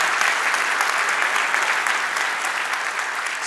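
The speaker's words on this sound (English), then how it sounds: "let's give them a round of applause." An audience gives a brief round of applause at a flight simulation expo, dense clapping loud and steady throughout with no pauses.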